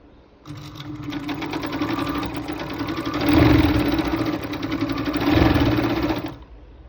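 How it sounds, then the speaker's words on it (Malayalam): An overlock (locking) sewing machine runs steadily while stitching cloth, giving a dense, rapid mechanical whir that swells twice as it works the fabric, close and loud with no talk. "ഇനിയിപ്പോൾ തുണിയിൽ ലോക്ക് ചെയ്ത് നോക്കുകയാണെങ്കിൽ നോക്കാം"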